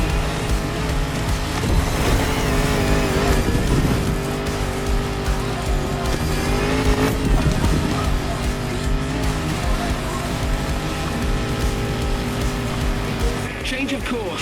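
In The Crew Motorfest video game, a Land Rover Defender with a 400-horsepower engine runs with a continuous loud engine drone and brief tyre squeal, while voices talk over it throughout.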